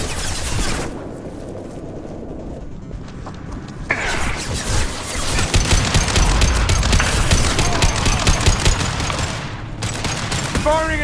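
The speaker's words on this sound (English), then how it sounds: "Firing an impact shot." Impact shots and heavy gunfire burst out repeatedly in a Mass Effect 2 combat scene. Loud volleys come under faint game voices and mechanical noise, and the firing intensifies midway.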